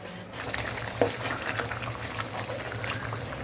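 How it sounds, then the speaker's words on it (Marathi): Vegetable curry bubbles in a pot on the stove, a steady low boiling burble with soft liquid patter running throughout at moderate closeness. "भाजी आता एकदम छान उकळलेली आहे"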